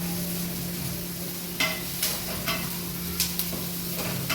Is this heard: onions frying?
yes